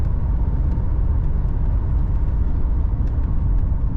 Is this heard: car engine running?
yes